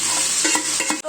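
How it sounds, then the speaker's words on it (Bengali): Marinated chicken sautéing and being stirred in a pan with browned fried onions, a steady close sizzle broken by several scraping stir strokes, then a brief drop near the end. "ম্যারিনেট করা চিকেনটা ভালো করে কষিয়ে নিতে হবে"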